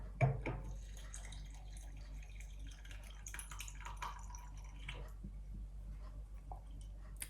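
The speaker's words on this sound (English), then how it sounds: "and then I fill it up with water" Water from a tap trickles and drips into a jar holding a handful of sprouting seeds. The sound is quiet and close, with soft splashes and liquid gurgles that settle into irregular drips.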